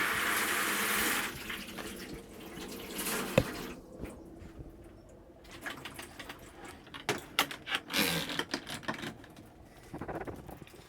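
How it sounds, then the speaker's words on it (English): A shower runs inside a 2003 Autosleeper Symbol 2.2 turbo diesel motorhome. A close, hissing spray opens the clip, then gives way to quieter splashing, dripping and scattered clicks. "see if we can get that shower on."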